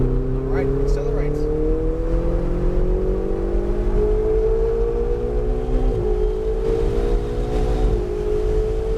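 A car accelerating on a driving course marked with orange cones, its engine note climbing steadily in pitch and staying loud and close throughout, with a brief dip near the end.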